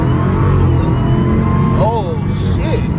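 A Dodge Challenger Hellcat on worn tires launches hard from a roll at about 55 mph, its engine a loud, close, continuous drone heard from inside the car, with a couple of short rising squeals near the end.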